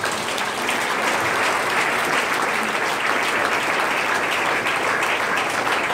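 Church congregation applauding, dense steady clapping from a large crowd filling the room without pause.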